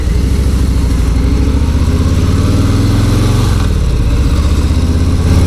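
A 2018 Harley-Davidson Street Bob FXBB Softail rumbles loudly and steadily while being ridden, its deep V-twin throb continuous with a brief dip and shift in pitch partway through.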